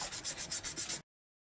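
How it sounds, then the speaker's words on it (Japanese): 600-grit sandpaper rubbed back and forth on a Honda Super Cub engine piston, six quick, even scratchy strokes close by, then abrupt silence. "ここをサンドペーパーでね削っちゃいます。"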